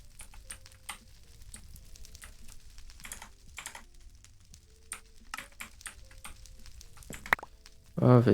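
Computer keyboard typing during a Minecraft gaming livestream: scattered quick key clicks, fairly quiet and close, with a louder burst of sound at the very end.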